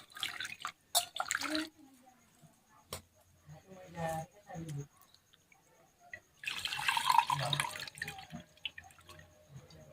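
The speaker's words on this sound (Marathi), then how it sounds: "परत अजून एक पाण्याने धुवून घेऊ आपण" Barnyard millet (bhagar) being rinsed in water in a home kitchen: close sloshing and dripping arrive in uneven bursts, with a longer, louder splashing spell near the end and quieter gaps between.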